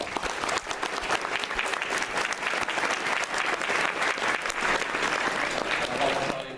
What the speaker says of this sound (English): we can have a round of applause at this time.